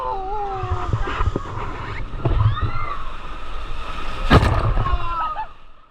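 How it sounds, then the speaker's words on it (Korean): Water sloshes and surges in a wave pool at a water park built over the sea, amid a lively crowd, with distant shouts and splashing, one strong surge near the end. "일정 간격으로 파도가 쳐서 계속 놀이기구를 타는 듯한"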